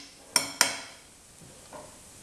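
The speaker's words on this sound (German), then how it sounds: "etwas brutzeln lassen." Spices dropped into sunflower oil in a pot for Bengali masoor dal give two sharp sizzling bursts close by that quickly fade into a soft, low crackle, with no talking.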